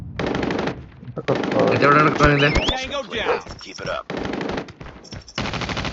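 Rapid machine gun bursts ring out in the mobile shooter Call of Duty Mobile, loud and repeated over several seconds. Game voice lines and a player's excited talk run over the gunfire.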